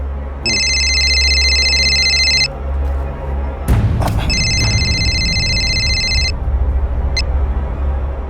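A telephone bell rings loudly in two long bursts with a pause between, followed by a few clicks and knocks.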